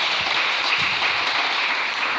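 Steady applause from a church congregation praising the Lord during a sermon on family, a dense continuous wash of many hands clapping at an even level with no pauses.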